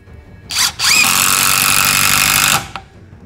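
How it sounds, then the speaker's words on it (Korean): Festool TID18 impact driver sinking screws, loud and close: a short whirring start, a brief pause, then a sustained rapid hammering rattle lasting about a second and a half before cutting off. "이게 뭔가 꽝꽝꽝꽝 이런 느낌이 아니고 타다다다다닥 때려주는 그런 느낌이 들거든요."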